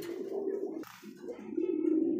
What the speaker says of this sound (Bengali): দেখতে পাচ্ছেন চমৎকার আরও এক জোড়া কবুতর